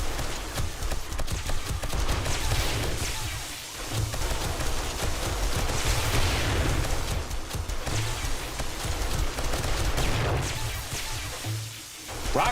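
Rockets firing in the 7 Days to Die video game make a dense, continuous roar of blasts and rumbling impacts across the whole stretch, with no voices over it.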